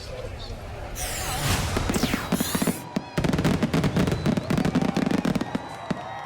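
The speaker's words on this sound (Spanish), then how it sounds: "Con fuegos artificiales y música se cerró la conmemoración de la misión del Apolo 11" Fireworks at the close of the Apollo 11 anniversary commemoration crackle and pop in rapid, dense bursts, with a whistling rocket launch and sharp bangs continuing throughout.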